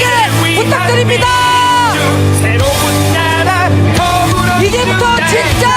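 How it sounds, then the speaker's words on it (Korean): A loud, dense crowd roars and shouts through the whole stretch, with strong sustained musical or chanting tones on top, at a Lee Jae-myung presidential campaign rally in Changwon, South Korea. "이재명 후보에게 뜨거운 함성 다시 한번 큰 박수와 함께 부탁드립니다"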